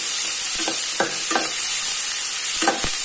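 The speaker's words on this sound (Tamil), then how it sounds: "வெங்காயம் நல்லா வதங்கிறதுக்காக அதில் கொஞ்சம் உப்பு ஆட் பண்ணுறோம், சீக்கிரமாக வதங்கணுன்றதுக்காக. நல்லா வதக்கி விட்டுக்கோங்க." Onions salted and sautéed in a pan for crab gravy, a steady broadband sizzle with several scraping stir strokes at an irregular rhythm, close and fairly loud, no talk.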